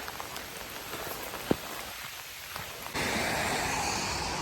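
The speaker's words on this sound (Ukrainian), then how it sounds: "А дощі капає, лиє капець." Heavy rain pours down on a mountain trail during a hike in Germany. It makes a dense, steady hiss that grows louder partway through, with a few sharper drop impacts and no talking.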